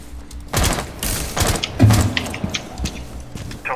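Gunfire from a Rainbow Six Siege match: several loud, close shots in a quick burst, followed by scattered thuds and lighter shots that tail off.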